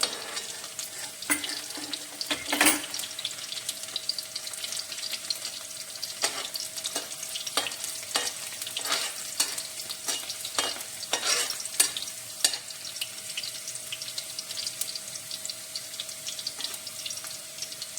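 Garlic and ginger frying in a pan for a fenugreek-potato dish, a soft steady sizzle with frequent sharp clicks and utensil taps, moderately quiet, no talking.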